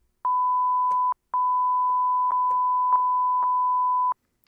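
An FM synth set to a fixed frequency holds one steady electronic beep at the same pitch, sounding as two long notes with a short gap and faint clicks of key presses underneath.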